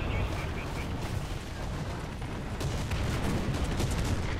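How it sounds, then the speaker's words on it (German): Artillery fire pounds the ground in a War Thunder tank battle involving the Japanese Type 98 Ke-Ni light tank. Dense, overlapping booms and rumbling blasts keep up a loud, continuous barrage. "Artillerie technisch geht es ganz schön ab gerade."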